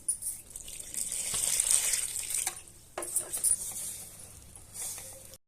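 Water is worked by hand into a kilogram of salted flour for a fried mixture snack dough, giving soft, uneven wet squelching and patting that rises and falls in close bursts with no talking.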